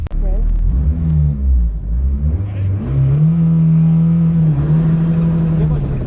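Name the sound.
car launching off the line with wheel spin at autocross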